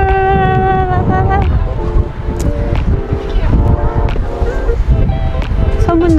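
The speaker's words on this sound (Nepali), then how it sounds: "समुद्रको पानी झमझम आफू माथि आउँदैछ। झमझम पानी भित्र बाहिर आउँदैछ।" Cold wind and sea water washing in and out along the Oido seashore in Siheung, a steady, loud roar of wind and surf throughout, with faint tonal sounds layered over it.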